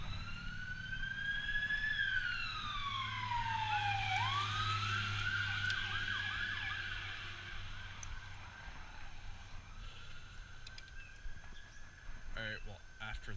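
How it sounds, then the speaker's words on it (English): A wailing siren sweeps up and down over passing motorcycle engine rumble, then yelps rapidly as it goes by, with a voice talking underneath. "we have sirens and motorcycles going past"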